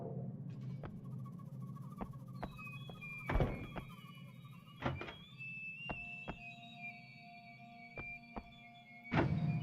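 Several dull thunks from a fire exit door in Buffy the Vampire Slayer: Chaos Bleeds, spaced irregularly over quiet ambient game tones, with the loudest thuds at the beginning and end.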